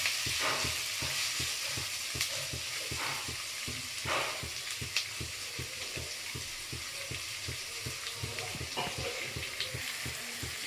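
Boiled chickpeas fry with onions in a pan for a gongura chickpea curry, giving a steady close sizzle broken by rapid, regular scraping strokes of a spoon stirring throughout.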